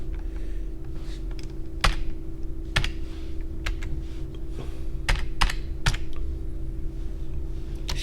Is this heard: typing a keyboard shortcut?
yes